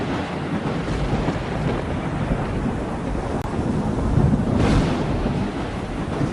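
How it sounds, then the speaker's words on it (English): Stormy weather at Battery Beach in South Africa, with a big storm producing cloud-to-ground lightning over the surf. A steady, loud roar of wind and waves carries a low rumble of thunder throughout, swelling slightly near the end, with no talk. "A big storm has moved in and is producing cloud-to-ground lightning, the most dangerous type."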